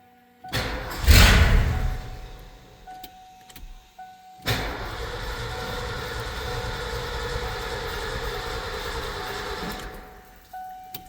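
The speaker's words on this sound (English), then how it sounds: "Inline pump is on. Little pump is on." Inline fuel pumps running on a 7.5L Ford engine: a steady electric whir and hum that starts abruptly partway through and holds at an even level until near the end, following a brief louder burst at the start.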